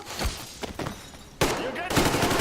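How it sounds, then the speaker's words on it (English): Gunfire in Metro Exodus Sam's Story, a few sharp isolated shots followed by dense, loud bursts of overlapping fire, with shouting mixed in. "Shoot the fucker, boys!"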